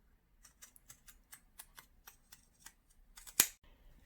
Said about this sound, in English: Once you have cut all the way around your seam allowance with your pinking shears